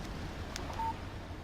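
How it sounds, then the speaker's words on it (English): A single short electronic chime of a phone text message alert in the Alan Wake video game, sounding once briefly and faintly over a low background hum. "Text message from Barry."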